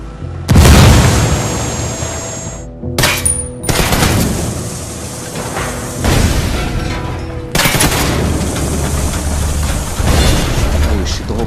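Frag grenade explosion in Ghost Recon Wildlands: a loud, close boom followed by rumbling debris and further crashing blasts and bursts of gunfire, with brief voices between.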